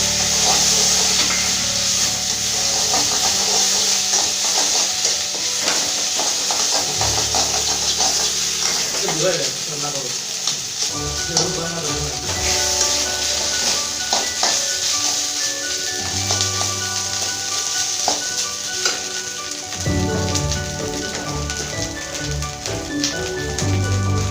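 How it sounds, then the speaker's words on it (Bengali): Vegetables fry in a pan with ginger, cumin and chili paste for a Bengali-style labra, giving a continuous sizzling hiss with occasional scraping and stirring, while people talk over it throughout. "আদা, জিরা, লঙ্কা বাটা দিয়ে ভেজে"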